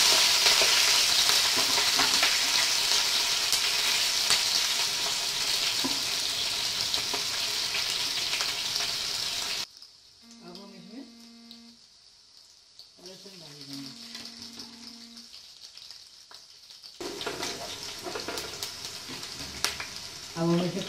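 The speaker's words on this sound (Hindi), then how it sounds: "अब हम इसमें मिर्ची डालेंगे।" Chillies hitting hot oil for a pumpkin sabzi, a loud steady sizzle and crackle that drops away midway, then returns strongly near the end, with a few faint tonal sounds in the quieter gap.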